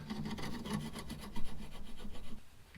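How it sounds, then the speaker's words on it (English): Metal scraper rasping across the thermostat housing mating surface on a 2002-2005 Toyota 4Runner engine, a steady run of rough back-and-forth scraping strokes, close and moderately loud, with no talking. "in my case, I had to go to the metal scraper because the plastic one just wasn't enough"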